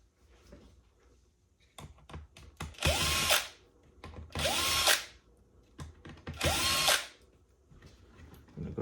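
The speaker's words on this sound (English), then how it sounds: "Now all these screws on this board need to be removed. So we're gonna go ahead and remove those screws." A power drill backs screws out of the circuit board of a Rane One DJ controller in three loud, whirring bursts of a few seconds each. Small clicks and handling noises fill the gaps between them.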